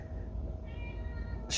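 A house cat meows once, a short faint cry rising over low room noise, then a brief sharper sound at the end.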